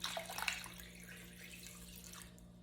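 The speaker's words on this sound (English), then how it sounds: "I'm gonna add just a little bit more cold water." Cold water pours and splashes steadily into a turkey brine container, a close, hissing rush that starts louder and then settles to an even flow.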